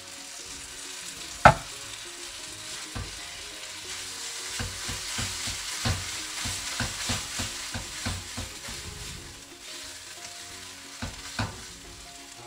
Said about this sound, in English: What you want to do here is just let the coconut milk reduce a bit.